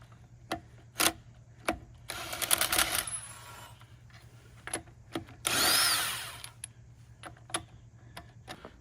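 Impact wrench fitted with a 7/8 socket removing lug nuts on a Chevrolet Avalanche during a brake job, two short bursts of rattling hammering amid scattered clicks and clanks of tools nearby.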